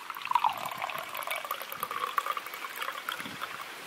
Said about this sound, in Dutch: Ik ga hem even inschenken.